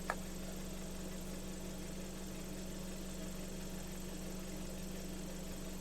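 A Ford Falcon engine idles with a steady low hum, even throughout, with a faint click at the start and no voices.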